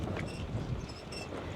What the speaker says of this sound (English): so it's very windy right now